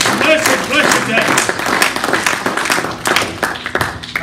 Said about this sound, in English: give God a great big clap on the ear this blessed, blessed day